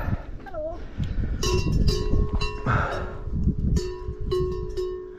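Cowbells clank from a herd of horned cows moving along an alpine bike trail near Schladming, several bells ringing irregularly and fairly close, with people talking over them.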